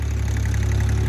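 A tractor engine runs steadily while pulling a stuck vehicle, a close, low, continuous drone with an even pulsing throb and no voices.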